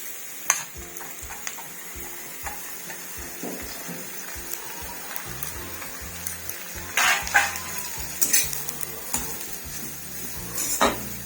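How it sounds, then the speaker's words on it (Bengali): Carrots frying in a pan for carrot naru, with soft intermittent sizzling under spoon stirring, scrapes and light metallic clinks of utensils against the pan, close and fairly quiet. "গাজরটা একটু ভাজা ভাজা হয়ে যাবে"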